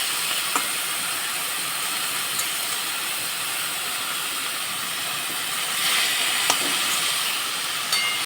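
Pumpkin greens sizzle and hiss steadily in a hot pan while a spoon stirs them, making occasional soft scrapes and clicks close by, with no voices.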